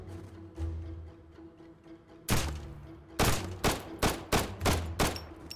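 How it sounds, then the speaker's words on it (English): Gunfire from an AK rifle or pistol in the hardcore survival game Road to Vostok, with one loud shot and then a rapid string of sharp, punchy reports, close and loud over a quiet ambient hum, with no voices. "I don't know if I'm gonna be able to take him out with the pistol, but I have the AK as well."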